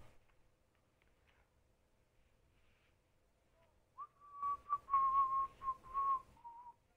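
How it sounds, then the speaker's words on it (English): A person whistles close into a microphone, a sustained steady tone with slight wavering and short breaks that starts after several seconds of near silence and runs to the end, loud and alone. "I hope my whistling isn't bursting your eardrums from this microphone"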